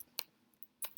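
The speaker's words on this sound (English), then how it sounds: "Let's type in something." A few quick, faint keystrokes on a computer keyboard while typing into a web form, sparse clicks in a quiet room.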